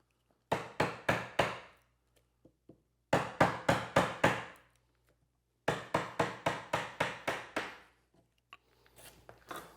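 A mallet drives a wide chisel into wood while cutting picnic table joints, giving three bursts of sharp, close, evenly spaced blows, about four to seven strikes each, with short pauses between bursts.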